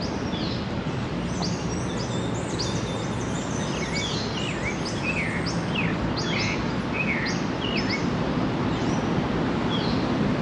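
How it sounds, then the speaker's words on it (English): Faint bird chirps and tweets scatter throughout Palmiste Park in San Fernando, Trinidad, distant and high-pitched, above a constant loud rumble of background noise. "But there's some really nice birds singing in the background."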